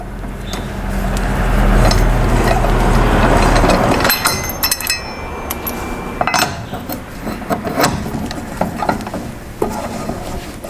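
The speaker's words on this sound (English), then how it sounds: "once the tyre is completely off the ground, you can then remove the rest of your wheel nuts" Wheel nuts on a car being undone with a wrench, close metallic clicks, scrapes and rattles, with a loud low rumble in the first few seconds and no voices.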